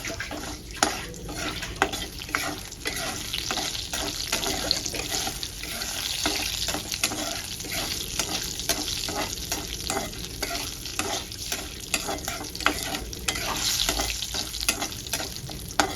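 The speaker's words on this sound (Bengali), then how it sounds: "ফোড়নটা আমি ভেজে নেব" Whole spices — bay leaf, cinnamon, cloves, cumin and a dried chilli — fry in hot oil in a pan, a steady close sizzle with stirring scrapes and a faint running-water hiss behind it throughout.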